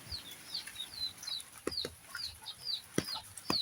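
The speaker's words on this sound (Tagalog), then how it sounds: "Silipin natin yung ating mga bagong pisang sisiyo at yung ating mga manok rito." Chickens and newly hatched chicks on a farm peep in quick high chirps throughout, while deeper clucks from a hen break in now and then, close and fairly quiet with no talk.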